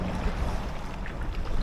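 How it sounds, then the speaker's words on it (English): Gusty wind and choppy waves on Ladybower Reservoir heard from an inflatable kayak, a close, rough wash of wind buffeting and water slapping, steady with a few louder gusts and no voices. "Yeah, you can tell we're back in the windy area now. Look at the chop on the water."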